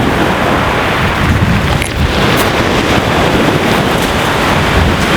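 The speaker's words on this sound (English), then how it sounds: "Just wait for some of these big breakers to go." Big sea waves breaking on the North Wales shore, a continuous loud roar of churning surf and broadband wash that fills the whole scene with no talk.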